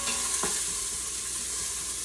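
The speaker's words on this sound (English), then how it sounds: "And we're just gonna start cooking that onion." Onion sizzles steadily in a hot pan while a utensil scrapes and stirs it, a constant close hiss with light scraping, no talking.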